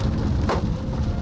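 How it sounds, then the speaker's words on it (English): Big hail pelts the ground during a severe thunderstorm in the Texas Panhandle, a dense, steady roar of impacts with a brief louder burst midway and no talking. "And of course, some big hail."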